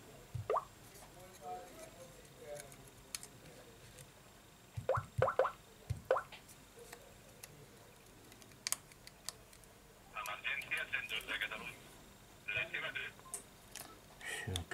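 A Samsung Galaxy S4 sounds emergency call tones after a power amplifier repair, several short beeping tone bursts near the end, with quieter taps and clicks earlier.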